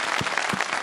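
A studio audience applauds for a squirrel character in a children's segment of a live TV show, a short burst of dense, lively clapping throughout.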